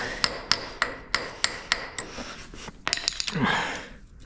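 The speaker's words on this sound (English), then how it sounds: "Oh, a little hammer did the job." Repeated sharp taps of a small hammer on metal parts of a moldboard plow, about seven evenly spaced strikes, then a few quicker irregular knocks and a brief scraping rustle, close and clear with no talk.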